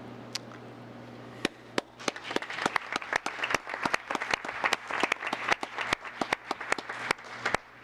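Scattered applause at a town council meeting, a modest group clapping with sharp, distinct individual claps in an irregular rhythm over a low steady room hum, continuing for several seconds.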